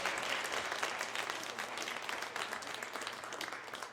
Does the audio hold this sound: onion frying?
no